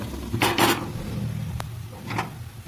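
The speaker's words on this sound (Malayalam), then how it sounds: "നമുക്കിത് മാറ്റി ചട്ടി അടുപ്പിലോട്ട് വെക്കാം." A clay cooking pot set onto a kitchen stove for a yam and tamarind curry, giving two close clattering knocks a moment apart with a small sharp click between them.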